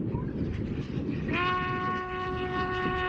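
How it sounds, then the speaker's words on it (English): Harry Potter steam train crossing the Glenfinnan Viaduct in Scotland, a rumbling rolling noise joined midway by a loud, sustained multi-tone horn blast that holds steady to the end. "Harry Potter's train crosses the world-famous Glenfinnan Viaduct every day"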